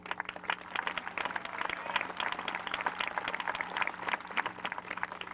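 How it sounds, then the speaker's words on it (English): Applause from the audience at a high school commencement, a looser, sparser clatter of individual claps with a distinct rhythmic texture, moderately loud over a faint steady hum and with no talking. "If you give them a nice round of applause."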